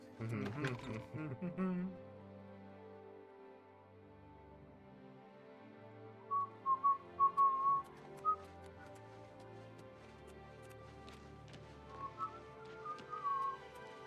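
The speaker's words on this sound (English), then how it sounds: "Follow the humming." Faint melodic whistling and humming from the game Oblivion Remastered drifts over a quiet ambient bed, coming in short bursts of a few notes with gaps between.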